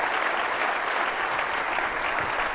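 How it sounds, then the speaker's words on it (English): An indoor audience at an evening speaking event breaks into steady, dense applause that holds at an even level throughout, with no voices rising above it. "Let's give her another round of applause."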